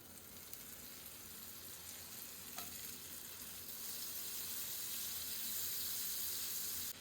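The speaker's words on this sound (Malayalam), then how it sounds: "ഇനി ഒരു പാൻ ചൂടാക്കിയിട്ട് അതിലേക്ക് കുറച്ച് ബട്ടർ ഇടുക." Butter sizzles in a hot pan with a soft, steady frying hiss that builds gradually, with one brief clink near the middle and no talk.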